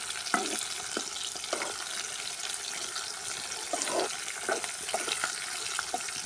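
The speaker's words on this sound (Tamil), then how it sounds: "சின்ன வெங்காயம் நல்லா வதங்கணும்" Shallots sautéing in a pan for a drumstick tamarind curry, a low hiss with several short scraping and clattering stirs of a spoon, close and without talk.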